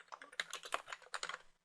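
Rapid typing of code on a computer keyboard, a close, steady flurry of key clicks running for under two seconds with no voices.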